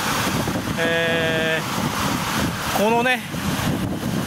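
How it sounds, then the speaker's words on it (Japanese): Strong wind blowing across the shore of Lake Biwa, a steady loud broadband rush buffeting the microphone throughout, with brief harmonic whines and a short voice heard over it. "風が強いです"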